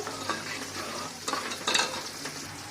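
Custard powder being stirred into boiling milk in a pot, a steady close scraping and swirling with a bubbling sizzle and occasional louder clinks of the spoon against the pan.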